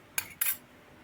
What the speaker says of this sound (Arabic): هعمل كده بالمعلقه عشان اعمل فتحات في الصينيه